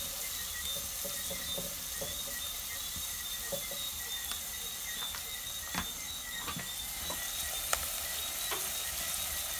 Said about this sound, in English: A perfect saute